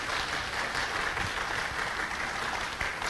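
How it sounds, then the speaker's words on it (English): Steady applause fills a city council meeting in Fresno, a dense, even patter of many hands clapping at once that holds at a constant level from start to finish with no talk over it. "So let's give him a big round of applause."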